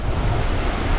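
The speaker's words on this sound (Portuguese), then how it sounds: "o mar tá bem mexido, tá entrando uma frente fria" Rough sea surf rolls onto the shore as a cold front moves in, a loud, continuous wash of churning waves mixed with wind buffeting the microphone.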